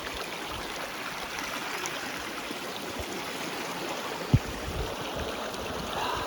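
A small babbling brook in Copper Basin runs in a steady, close, even rush of water, with one brief click partway through and no voices.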